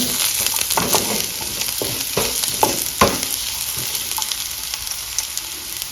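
Small chopped garlic sizzles in hot oil in a pan for honey lemon chicken, a dense, close crackle and hiss with scattered pops and stirring scrapes, steady from start to finish.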